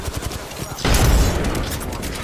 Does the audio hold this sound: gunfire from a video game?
yes